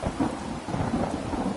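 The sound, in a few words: thunder and rain in video game Skyrim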